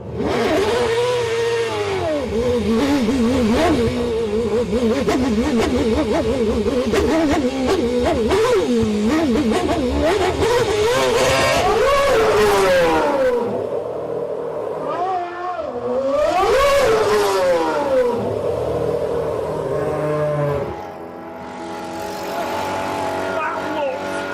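A loud Formula One racing car engine revs and accelerates, rising and falling in pitch with gear changes, then passes again after a brief dip; voices are faint beneath it.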